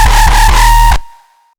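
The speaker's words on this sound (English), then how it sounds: "we have a reverb to create this sweeping effect" A thick synth bass note with an automated washy reverb tail that swells into a sweeping effect, then cuts off abruptly, leaving a faint ringing decay.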